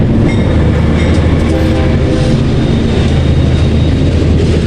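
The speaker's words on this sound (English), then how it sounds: "That's what they call the network of trains that migrants hop and ride the length of Mexico." La Bestia, a freight train in Mexico, rumbles past very loud and close. Heavy rolling roar and wheel noise fill the whole stretch, with faint tonal squeals mixed in.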